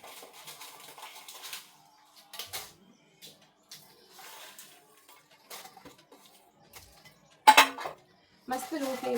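Metal utensils scrape and clink against a pan in sparse, quiet bursts as spices dry roast on low flame for a village-style chicken sukka powder, with a voice speaking briefly near the end.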